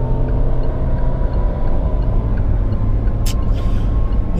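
A Geely Atlas with a 1.8-litre turbo engine accelerating away, its steady engine drone loud and continuous from inside the car, with a brief higher whine near the end.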